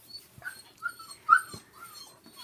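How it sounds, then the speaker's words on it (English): Several young Brittany puppies whimper and yip in soft, high, scattered cries, close by and fairly quiet, with short pauses between the whines. "lots and lots of puppies this morning. Saying hello."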